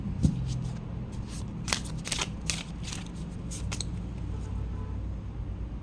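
Tarot cards are shuffled by hand in a few close, crisp riffling bursts against a steady low background hum.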